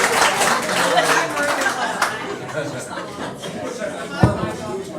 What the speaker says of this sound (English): Give Marie the clap.